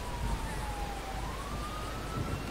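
A police siren in a video game wails steadily in the distance, its tone sliding slowly up and down over constant low rumbling background noise.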